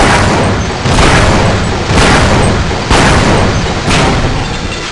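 Grenade blasts in the Half-Life: Blue Shift video game land as a series of four loud, close booms roughly a second apart, each with a short rumbling decay.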